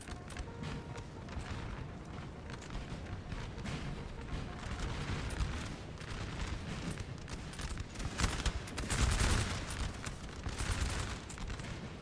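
Musket volleys crackle across a Napoleon Total War battlefield, a dense, continuous spread of distant gunfire and booms with no clear pauses.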